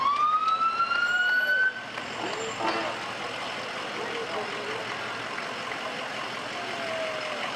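At a Memorial Day parade, an emergency vehicle's siren gives a loud rising wail for under two seconds, then cuts off, leaving a rumbling engine and murmuring crowd noise.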